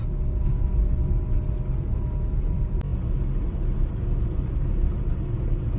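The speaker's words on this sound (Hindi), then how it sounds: "गाड़ी की आवाज एकदम दबा रखी है" A car engine runs quietly at night on a jungle track in tiger country, giving a steady low rumble throughout with no speech.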